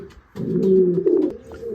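Racing pigeons coo in a single close, loud, low throaty call of nearly two seconds, heard alone at a loft awaiting young birds returning from a 126 km race.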